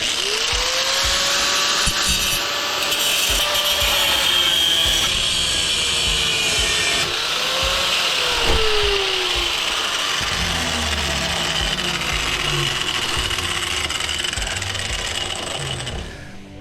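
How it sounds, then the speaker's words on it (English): A power grinder cutting bolts off a large Insinkerator garbage disposal being scrapped, a loud continuous whine with shifting pitch and metallic grinding, steady throughout and close. "We'll have to grind them off."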